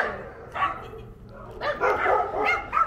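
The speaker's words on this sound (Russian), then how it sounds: "Ну ладно, не гавкай." A dog on a residential street in Tijuana gives a few sharp barks and yips, moderately close, with faint street ambience between the calls.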